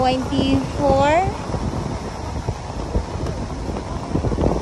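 Typhoon Carina drives strong wind and rain across Dolomite Beach on Manila Bay, a steady roaring buffet of gusts against the microphone, with a voice speaking briefly at the start.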